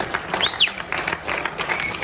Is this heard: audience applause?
yes